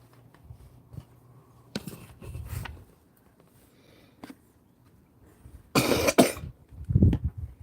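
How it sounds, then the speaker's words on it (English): A few short coughs, seemingly from a pet bird on a patio, scattered between quiet pauses, with a louder, harsher cough cluster near the end, close and fairly faint overall. "that cough sounds a little mucusy"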